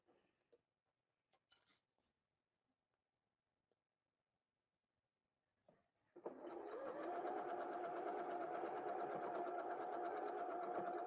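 A sewing machine stitches a quilt, running steadily and loudly for the last five seconds after a stretch of near silence with a few faint rustles and clicks.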